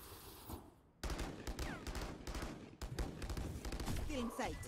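Rapid gunfire bursts in the tactical shooter Valorant crack out in quick succession after a brief quiet start, with repeated automatic volleys and a voice talking over the action.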